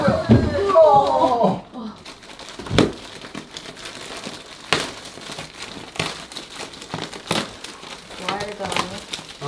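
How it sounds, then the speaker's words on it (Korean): Plastic wrapping crinkles and tears as it is pulled off a new, heavy mattress in a bedroom, in bursts of crackling rustle over about ten seconds, with people talking in between. "비닐을 빼자."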